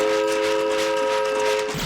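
A train sound effect with a sustained, loud, steady horn or whistle tone held for nearly two seconds over a rumbling wash, fading slightly at the end.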